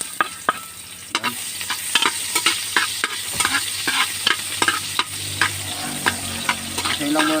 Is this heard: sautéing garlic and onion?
yes